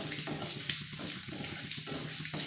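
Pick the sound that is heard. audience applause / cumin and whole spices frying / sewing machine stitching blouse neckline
cumin and whole spices frying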